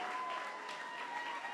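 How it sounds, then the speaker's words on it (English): An audience claps at a regional awards ceremony in Mombasa, a brief, moderately loud burst of steady applause with a faint tonal hum behind it. "Makofi tafadhali."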